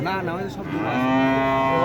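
A Holstein Friesian cow at the Taherpur cattle market in Bagmara, Rajshahi, lets out a long, loud moo close by, its drawn-out call rising and then holding steady.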